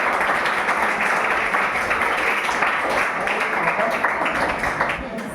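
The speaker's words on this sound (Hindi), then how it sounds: "वेरी गुड, ताली बजाएंगे सब लोग।" Students in a Hindi-language classroom applaud, a dense burst of clapping filling the whole moment at close range, with some voices mixed in.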